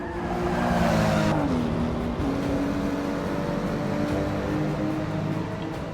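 A BMW Z4 racing engine in Forza 6 on the Bernese Alps Club Circuit, loud and sustained as it revs and shifts, with a brief tire squeal, heard alone and close.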